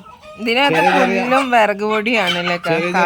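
Chickens kept as backyard poultry cluck loudly and continuously, with harmonic crowing-like calls rising and falling close to the microphone throughout.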